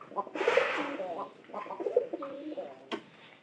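Domestic pigeon cooing in a loft, several soft throaty coos close by, with a brief sharp knock near the end.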